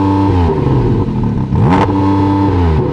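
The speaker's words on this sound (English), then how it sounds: "So let's have a listen to it. Go on, start the engine." A Porsche GT4 RS engine revs hard, its pitch climbing and falling in repeated surges against a soft limiter, loud and close with a steady throaty drone between blips.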